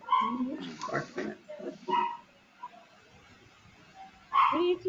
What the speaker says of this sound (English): That is my puppy, and I don't know why she's barking